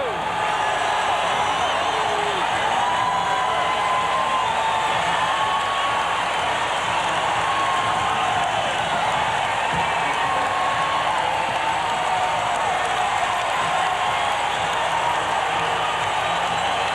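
A capacity hockey crowd at Saskatchewan Place roaring after a goal at the 1989 Memorial Cup final, a loud, sustained wash of cheering and applause that barely varies across the whole stretch.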